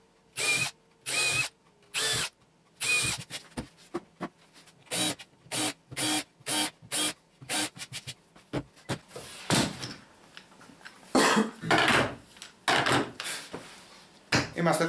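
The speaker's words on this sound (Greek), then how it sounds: "Πάμε να τρυπήσουμε." A power drill bores holes in wood while building a firewood-carrying trailer, with many short, loud whirring bursts separated by brief pauses.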